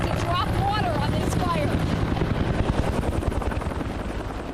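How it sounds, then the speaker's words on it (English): A firefighting helicopter flies over a wildfire near Santa Rosa, its steady rotor thump and engine roar filling the air continuously, fairly loud and close, while voices speak underneath. "called for air support with helicopters about to drop water on this"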